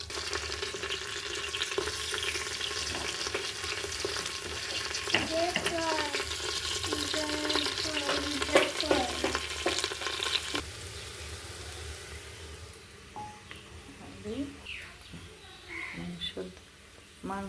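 Onions and green chilies frying and being stirred in hot mustard oil, a steady close sizzle with scraping stirs, loudest in the first ten seconds and then quieter; a voice speaks at times over it.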